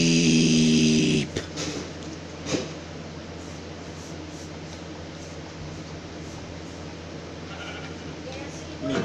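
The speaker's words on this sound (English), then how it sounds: "Sheep." Harmonic sheep bleat from the Minecraft video game, loud and close, lasting about a second at the start before giving way to quiet game ambience with a faint thump.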